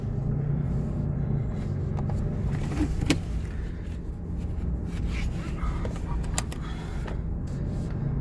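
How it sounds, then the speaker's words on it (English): A brand-new 2017 RAM 3500 pickup with the 6.7 Cummins diesel on the move, giving a steady low engine and road rumble inside the cab, broken by a few faint clicks and creaks. "Feels good to drive a brand new truck"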